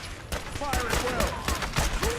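Gunfire in the Fallout 4 video game, with repeated loud shots and bursts crackling through a busy, dense battle mix over about two seconds, while voices and other game sounds mingle underneath.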